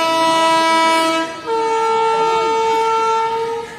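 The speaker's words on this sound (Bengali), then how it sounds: "4 মিনিট লেটে ঢুকলো ভাগীরথী এক্সপ্রেস প্ল্যাটফর্ম নাম্বার 1-এ" A WAG-9 locomotive hauling the Bhagirathi Express into platform 1 at Bhagabangola station sounds its horn in two loud, sustained, near blasts, the second on a shifted pitch, over a low rumble of the arriving train.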